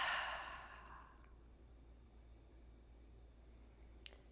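Near the start, a single long, soft breath is exhaled during a yoga practice. It trails off into quiet room tone, and a tiny click comes near the end.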